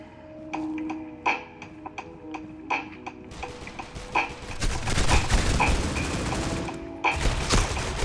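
Gunfire in the mobile shooter Critical Ops: a few separate sharp shots at first, then dense rapid bursts of automatic fire with overlapping clatter, close and loud, broken by short pauses.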